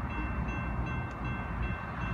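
A New Mexico Rail Runner commuter train, number 510, rumbles steadily past close by in Albuquerque, a continuous loud roar of wheels and engine with no pauses.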